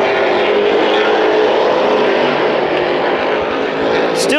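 Super stock race car engines roar loudly and continuously at a bullring short-track race, a steady dense drone of passing cars with crowd and track ambience throughout.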